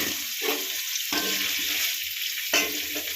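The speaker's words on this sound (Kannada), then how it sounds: "ಈಗ ಎಣ್ಣೆ ಹೀಟಾಗಿದೆ, ಕರ್ಮೀನ್ ಹಾಕ್ಕೊತಿದ್ದೀನಿ" Dried fish drops into hot oil and fries with a loud, close crackling sizzle, punctuated by three bursts of spatula scraping and stirring, with no speech.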